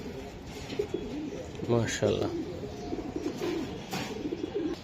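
Racer pigeons coo in low, soft burbles close by while someone speaks over them, and there is a brief handling rustle partway through.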